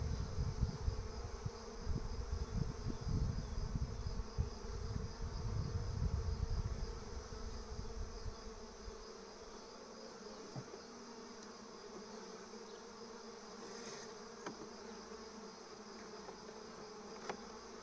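A honeybee swarm buzzes during a hive inspection on its fourth day, a loud, dense hum up close for the first half that drops to a quieter, steady drone with occasional individual bees passing.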